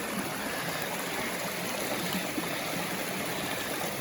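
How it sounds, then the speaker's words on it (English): Brook swollen by recent rain flowing past a bridge abutment by a road in a gold camp area, a steady rushing and trickling wash of water, close and continuous with no voices. "the brook comes down through here"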